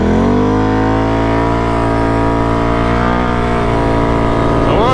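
A tuned 2022 Can-Am Renegade ATV engine, rated at 105 hp, accelerating hard, its strong harmonic drone climbing steadily in pitch, loud and close, with a shift near the end and no talk.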